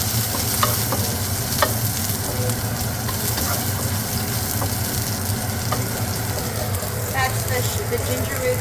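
Sliced ginger root frying in a hot pan for shredded beef with cilantro, a continuous close sizzle with stirring scrapes and light taps of the utensil, and a voice speaking over it.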